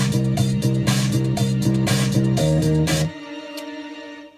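A Yamaha RX5 drum machine pattern with a distorted snare and extra hi-hats plays a tight, steady groove loud and alone for about three seconds, then stops and leaves a fading tail.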